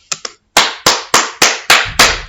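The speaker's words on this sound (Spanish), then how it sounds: "yo puedo aplaudir" Two light claps followed by five sharp, loud hand claps in an even rhythm, close and alone with no talk.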